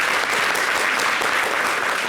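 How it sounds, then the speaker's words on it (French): A studio audience on a local TV show breaks into steady, even applause, a thick wash of many hands clapping throughout. "Baki Koné également, donc ex-international ivoirien, qu'on peut applaudir aussi."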